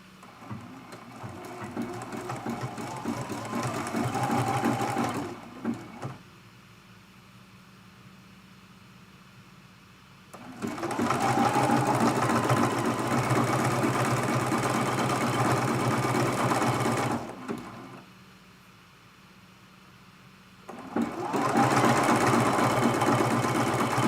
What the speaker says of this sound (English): We're going to hold that in place and stitch that side down too.